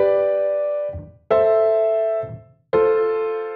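Three sustained chords of a 1-5-6-4 progression ring out one after another, each held about a second, with brief quiet gaps between; a fourth chord begins at the end.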